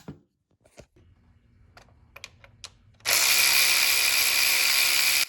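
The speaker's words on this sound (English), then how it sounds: "I did give this ratchet a go" AliExpress 3/8-inch drive ratchet handled up close: a few sparse clicks and taps at first, then a loud, continuous rapid ratcheting buzz for the final two seconds.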